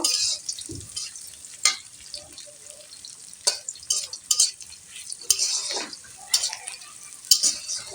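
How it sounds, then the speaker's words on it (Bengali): Onions crackle and sizzle steadily in oil in a pan while a utensil stirs and scrapes now and then, with occasional louder clacks against the metal. "পেঁয়াজগুলো একটু ভাজবো এখন লাল লাল করে ভাজবো"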